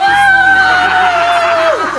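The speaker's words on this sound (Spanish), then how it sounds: "Una ovación para Marisa y su risa." A studio audience gives Marisa an ovation, a loud, dense wash of cheering and whooping that holds steady for two seconds, with a sustained high tone sliding down near the end.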